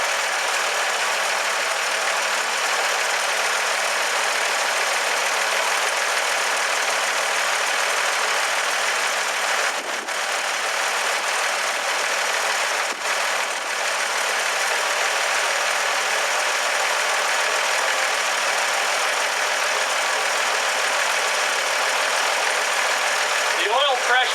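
The engine of a 1964 Ford F100 pickup idles steadily with a continuous broad rumble and hiss that stays loud and even throughout, with a few faint knocks.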